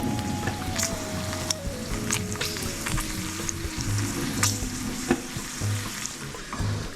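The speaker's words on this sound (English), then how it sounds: "when you cook bacon, you just leave it on, walk away, let it do its thing" Bacon sizzles and crackles steadily in a frying pan, a dense continuous frying hiss with scattered sharp pops and a low hum underneath, close and fairly loud with no voices.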